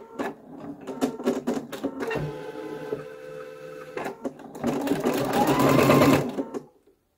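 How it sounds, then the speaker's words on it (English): An embroidery machine stitches an edge-to-edge quilting design in the hoop, with a rapid mechanical needle clatter that starts and stops in short bursts before settling into a louder, sustained whirring run close by. "we're gonna let it stitch out on the machine"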